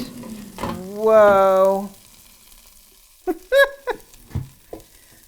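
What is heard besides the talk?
asparagus shaken and sizzling in a Cosori air fryer basket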